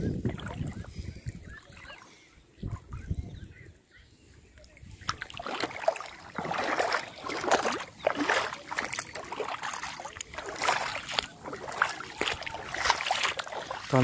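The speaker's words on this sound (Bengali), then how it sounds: "আর আবার নৌকা আছে, নৌকা দিয়ে পার হয়।" A boat moving through floodwater over a submerged road, heard as sloshing and splashing water that grows louder and more active partway through, with wind buffeting the microphone.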